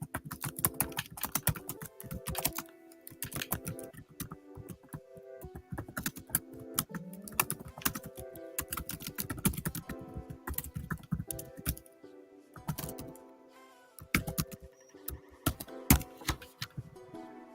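Fingers type on a computer keyboard at close range, bursts of quick clicking keystrokes broken by short pauses, with no voices.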